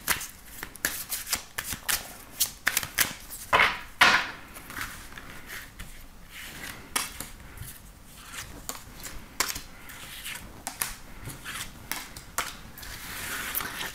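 Tarot cards are shuffled close up for a daily card reading: a steady run of crisp riffles and flicks repeating rapidly, with no one talking.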